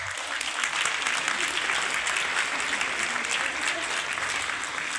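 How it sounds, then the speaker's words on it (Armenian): Sustained applause from an audience at an Armenian commemorative event, a steady dense clatter of many clapping hands that holds evenly for the full duration. "Ծափահարենք աշխարհով մեկ ցնված մեր բոլոր հայրենակիցներին"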